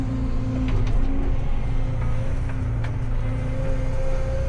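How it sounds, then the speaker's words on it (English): A dump truck rumbles steadily at idle close by beside a working excavator on a dirt hauling site, with a low continuous engine drone and a faint higher whine throughout. "My last truck just pulled up."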